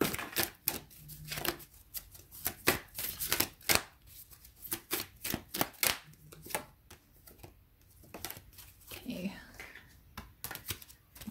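Crisp, rapid tarot card-riffling bursts repeat in quick succession, close and fairly loud, with soft speech in the background.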